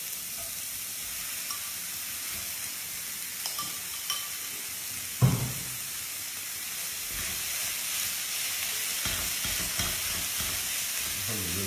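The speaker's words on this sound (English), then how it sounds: "we're going to put in our mince into there" Beef mince frying in a pan for a curried savoury dish, a steady hissing sizzle throughout with occasional knocks and stirring scrapes.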